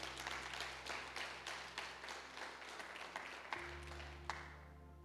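A church congregation applauding its pastor during a sermon, producing scattered, uneven clapping over a steady hum, with a few sharper claps standing out near the end.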